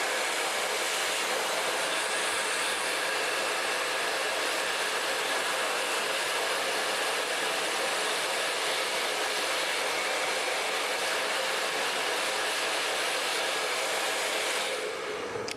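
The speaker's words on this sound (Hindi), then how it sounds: "रोल करने के साथ ही हमें ड्रायर भी करना है।" A handheld blow dryer roars continuously while drying curled hair wrapped on a round brush, a steady close airflow rush lasting throughout and cutting off right at the end, with no voices.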